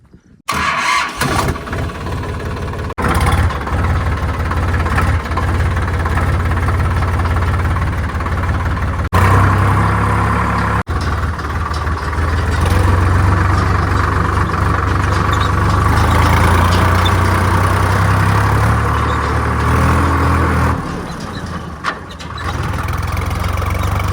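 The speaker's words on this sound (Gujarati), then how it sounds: "તમે ટ્રેક્ટર ચાલુ કર્યું" A tractor engine turns over and settles into a loud, steady idle, its deep rumble chugging close by for a long stretch without speech.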